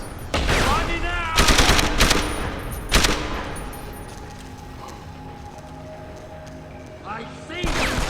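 Gunfire erupts in the video game Deus Ex: Human Revolution, with several loud bursts of close rapid shots spread through the stretch over game music and ambience, and a voice speaking early on.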